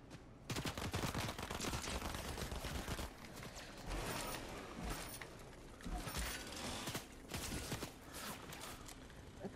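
Gunfire in the video game Fortnite, during a Fortnitemares match, with dense, continuous bursts of shots and mechanical clatter that stay loud for the whole stretch.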